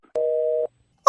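A phone on speakerphone gives a single steady disconnect tone of about half a second, loud and clean, after the call cuts off, followed by a brief burst of another sound.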